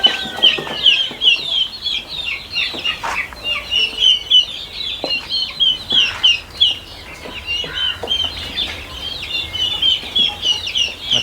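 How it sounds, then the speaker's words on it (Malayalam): A flock of White Leghorn cross hens on a farm clucks and chatters continuously, many birds calling at once in a busy, overlapping stream of sharp clucks, fairly close and fairly loud, with no talk. "ഇത് white ലെഗോണിൻ്റെ cross, 2 white leghorn cross."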